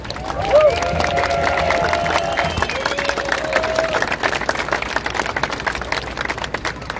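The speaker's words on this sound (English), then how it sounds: "We can give them another round of applause." Steady applause and clapping from an outdoor crowd at a 9/11 memorial ceremony at the World Trade Center, continuous and fairly close, with some voices and a brief whistle-like tone early on.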